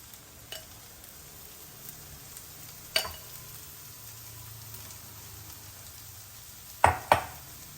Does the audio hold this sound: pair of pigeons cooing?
no